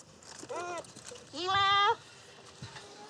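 Goats raised for meat bleat nearby, one short wavering call followed by a longer, louder sustained bleat, with faint background noise between calls.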